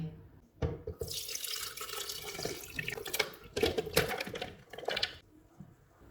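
Soaked dates and nuts with warm milk pour into a jug in a steady liquid splash lasting several seconds, with a few heavier glugs and surges toward the end; no one talks.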